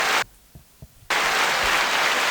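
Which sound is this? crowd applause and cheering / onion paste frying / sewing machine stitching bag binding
crowd applause and cheering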